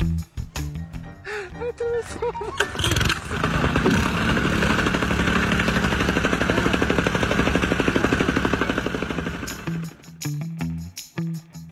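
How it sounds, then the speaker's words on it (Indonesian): A work machine's engine is started; it catches and runs loudly at close range with a rapid, steady chugging rhythm for several seconds, then cuts off amid scattered knocks and clatter. "sampai seorang rekan datang dan menyalakan mesin itu untuk mereka"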